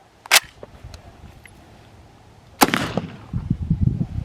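A Draco pistol fires outdoors: one sharp, loud report near the start, then a second shot about two seconds later that trails into rumbling echo and handling noise.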